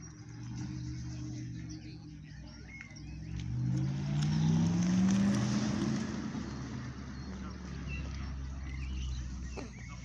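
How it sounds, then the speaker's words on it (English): An all-electric Porsche Taycan Turbo passes at a car meet at the Dovecote Inn, Laxton, a low rising hum that swells toward the middle and fades, with background chatter. "Here goes the all-electric Porsche Taycan. This is a Taycan Turbo."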